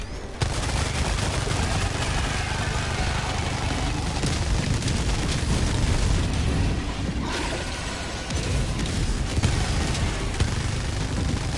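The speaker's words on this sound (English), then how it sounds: "Orbital barrage incoming." Orbital barrage in Helldivers 2 rains down as a relentless, dense roar of blasts and crackling impacts, loud and continuous across the whole stretch with no pauses.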